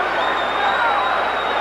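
Boxing arena crowd roaring at Holyfield's right hand lead in his fight against Riddick Bowe, a sustained loud wash of cheering with no breaks.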